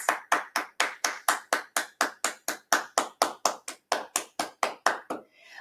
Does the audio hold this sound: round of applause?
yes